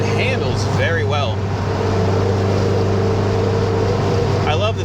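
A 1967 Volkswagen Beetle drives along with a steady, loud engine drone that holds an even hum throughout, with brief bits of voice at the start and end.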